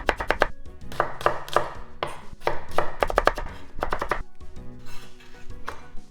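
A knife cuts an onion into thin slices on a cutting board, giving quick rhythmic bursts of sharp chopping taps separated by short pauses.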